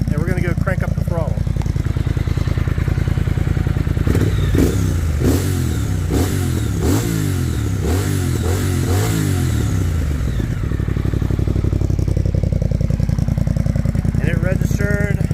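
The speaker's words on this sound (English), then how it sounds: "we're gonna go crank up the throttle" A Triumph Speed Twin fitted with a Cone Engineering exhaust idles loudly, then climbs through several sharp throttle blips and revs over a few seconds before settling back to a steady idle.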